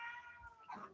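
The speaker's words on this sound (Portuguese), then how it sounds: "Tem um gato miando aí atrás." A cat meows faintly somewhere in the background of an indoor room, giving two short, thin cries in quick succession.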